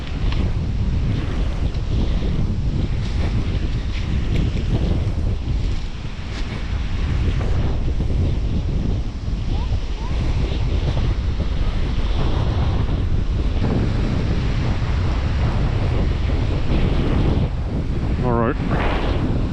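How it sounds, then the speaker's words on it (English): Wind and ocean waves at a Saint Kitts beach in the Caribbean during a kiteboard launch: steady loud surf roar and heavy wind buffeting on the microphone throughout, with faint voices underneath. "The wind's okay."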